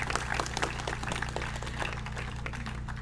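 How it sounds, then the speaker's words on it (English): An audience at a Métis Nation celebration claps steadily, a brief round of moderate applause over a low electrical hum. "Well, applause."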